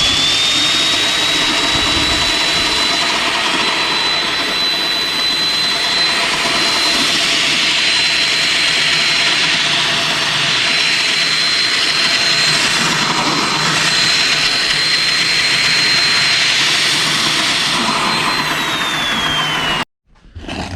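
A 1950s vintage Sunbeam electric lawn mower running with a loud, steady whirring roar and a sustained high whine, close and continuous before cutting off abruptly near the end.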